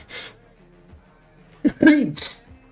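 A single sneeze in a quiet room, a short breathy intake followed by a sharp, loud voiced burst near the end, close to the microphone, with a faint breath at the start.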